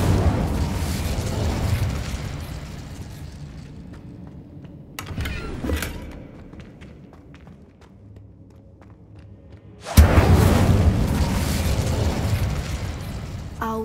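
A fire spell blasts in the Hogwarts Legacy video game, a loud whooshing roar that fades, followed by a few scattered pops and a second heavy burst that sustains to the end.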